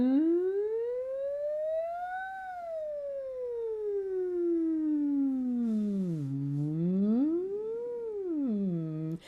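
A human voice imitates a siren, gliding smoothly up from low to high, then sliding back down, and finishing with quicker swoops, sustained and clear with no other sound.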